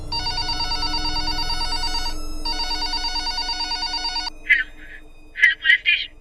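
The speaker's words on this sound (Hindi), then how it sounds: "पाली बाजार के कोतवाली में रात के करीब 2:30 बजे एक फोन कॉल आया।" A telephone rings at a police station at night, two long electronic trills split by a short gap, then several quick, clipped chirps, close and clear against a faint low hum.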